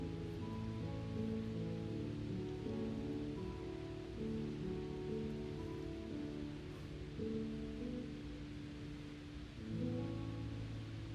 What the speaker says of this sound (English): And the rains are coming to serenade us.